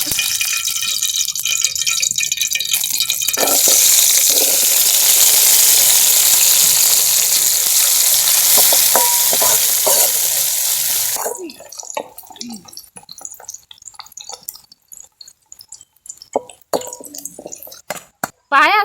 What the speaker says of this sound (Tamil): முந்திரி திராட்சை வறுத்து எடுத்துக்கலாம்.